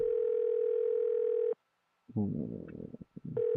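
A steady telephone tone in the horror video game Evil Inside sounds, breaks off into a brief burst of garbled electronic noise, then the tone resumes.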